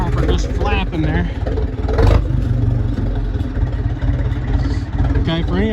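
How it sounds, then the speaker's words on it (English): A Case 770 tractor engine running while being driven, a steady low chugging rumble with some clatter, largely under someone talking close by. "We just need to drive it around a minute and get some heat in the engine"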